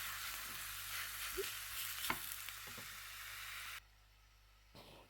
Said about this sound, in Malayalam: ഇനി ഇത് കുറച്ച് ടൈം എടുത്ത് ഫ്രൈ ചെയ്തെടുക്കണം നല്ലപോലെ. കുറച്ച് ഓയിൽ ആഡ് ചെയ്തിട്ടുള്ളൂ, ഡീപ്പ് ഫ്രൈ അല്ല ചെയ്യുന്നത്.